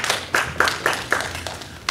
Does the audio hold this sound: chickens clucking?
no